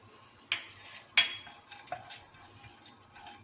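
Dry fruits being added and stirred in hot ghee (clarified butter) in a pan, with a few sharp clinks and scrapes of a utensil against the metal over a quiet, faint background; no speech.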